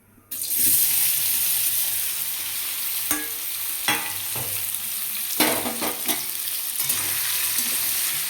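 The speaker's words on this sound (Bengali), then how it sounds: "কড়াইতে ঘি গরম বসিয়ে দিয়েছি, এবার কেটে রাখা পনিরগুলো ভেজে নেব।" Cut paneer pieces drop into hot ghee in a wok and burst into a loud, close sizzle. Scrapes and stirring clatters are scattered through the frying.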